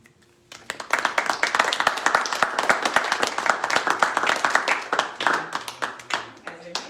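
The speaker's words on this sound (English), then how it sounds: "You don't have to clap after everything." An audience at a poetry reading breaks into clapping after a poem. The applause builds quickly, holds for several seconds as a dense patter of hands, then thins out to a few last claps.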